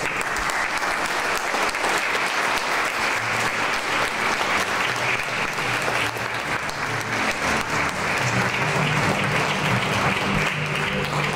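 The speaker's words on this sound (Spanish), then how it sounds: "Brindemos un aplauso, por favor." Sustained applause from a large audience at an International Day of Indigenous Peoples event, dense and even throughout, with no speech.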